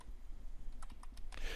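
Keystrokes on a computer keyboard during copy-paste shortcuts, a few quiet scattered clicks in a short burst toward the end over a soft background hum.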